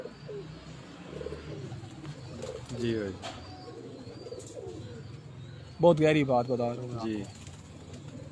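Rampuri Banka pigeons on a rooftop give a few low coos between a man's spoken remarks, and his louder speech dominates near the end.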